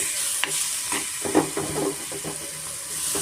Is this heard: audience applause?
no